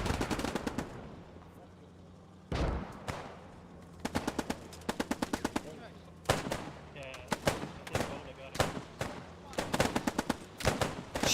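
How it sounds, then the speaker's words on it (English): Rapid bursts of automatic gunfire and single shots crackle in the Post Scriptum World War II shooter, Operation Market Garden event, coming in repeated volleys with short pauses, loud and close, over a low background rumble. "Shots going through the wall, the floor."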